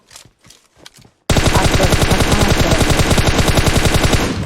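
Close, loud burst of automatic gunfire in PUBG Mobile: a few quieter thuds, then about three seconds of rapid, evenly spaced shots firing without pause.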